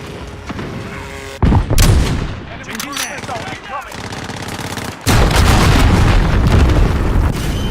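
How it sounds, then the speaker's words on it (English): Cruise missile strike in Call of Duty Modern Warfare, loud game explosions and bursts of gunfire crashing in abruptly, heavy booms followed by rumbling debris, with a game voice briefly heard. "Enemy cruise missile incoming."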